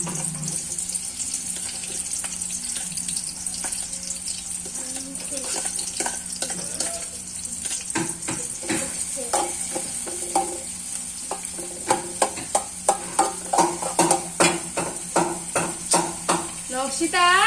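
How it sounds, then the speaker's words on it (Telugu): Onions frying in hot oil in a pan for fish curry, a constant sizzle with clinks and stirring scrapes, growing busier and more percussive toward the end, with a voice speaking at times. "ఆనియన్స్ అయితే ఇలా ఫ్రై చేసుకుంటున్నానండి."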